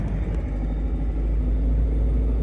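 A Triumph TR7 with a 5-speed gearbox idles in neutral with the clutch pedal pressed in, giving a close, loud, steady low engine rumble throughout with no talking.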